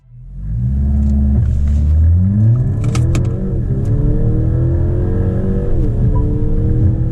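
A 2024 Mercedes E-Class engine roars up from low rumble accelerating from 0 to 100 km/h, its pitch climbing steadily through several gear changes, loud and close throughout.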